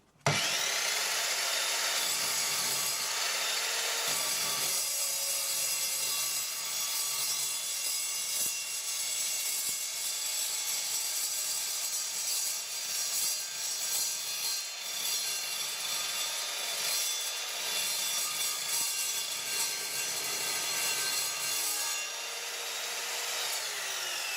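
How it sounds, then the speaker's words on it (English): An Evolution R210SMS sliding mitre saw cuts through a metal tube, a loud, steady grinding screech that runs continuously for about twenty seconds with slight wavering, then spins down near the end. "It feels very wrong cutting a metal tube on a saw like this"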